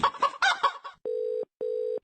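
A rooster crowing sound effect in a radio prank show plays as two identical flat electronic-sounding tones, following a man's brief excited speech.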